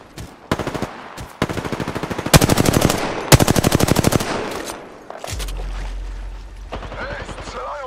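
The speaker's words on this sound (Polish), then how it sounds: "strzelają do mnie" Rapid bursts of machine gun fire in a video game shootout, loud repeated volleys in several strings with short gaps, followed by a low rumbling hum and faint game effects.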